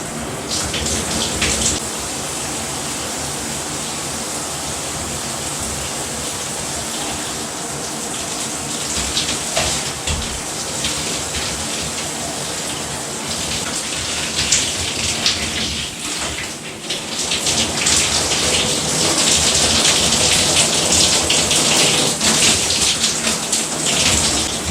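A 12-inch rainfall shower head sprays water in a steady, loud hiss that continues without a break for the whole stretch, with a brief dip and then a heavier, brighter rush toward the end.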